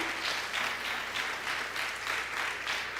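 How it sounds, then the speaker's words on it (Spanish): A church congregation applauds in a steady, dense wash of clapping that holds at an even, moderate level throughout, heard from some distance with no clear voices over it. "Démosle un aplauso al Señor, iglesia."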